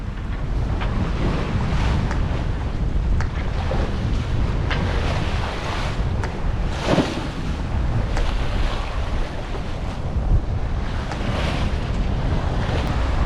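Offshore in the Atlantic, on passage toward Ponta Delgada in the Azores, a sailboat rushes through the sea with loud, continuous wave wash and heavy wind buffeting the microphone, without pause and with no voices.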